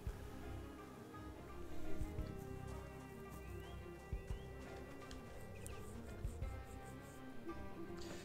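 Steady rain in the video game Project Zomboid, a dense patter of drops with occasional louder taps, quiet and continuous throughout.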